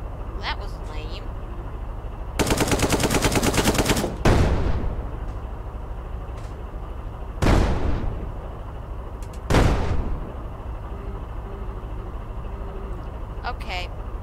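Rapid gunfire aimed at incoming missiles in the video game Brick Rigs, a dense burst of shots lasting about two seconds, followed by several loud booming blasts spaced apart over a steady background hum.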